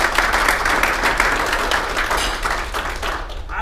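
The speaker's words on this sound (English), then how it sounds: "let's give a very big round of applause" A breakfast-talk audience gives a big round of applause, loud, dense and continuous, a thick wall of many hands clapping that tapers slightly toward the end.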